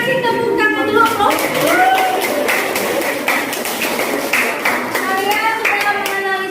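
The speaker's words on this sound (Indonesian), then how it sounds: "Kasih tepuk tangan dulu, bro." Students in a classroom break into steady applause, a dense run of clapping that carries on for several seconds, with children's voices and chatter mixed through it.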